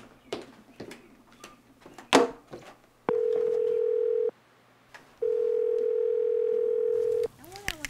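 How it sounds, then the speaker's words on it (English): Telephone dial tone sounding in two long steady stretches, preceded by clicks and handling noises of picking up a handset and dialing a call, with faint background sounds between. "Let's call Kreitzer and hear hers."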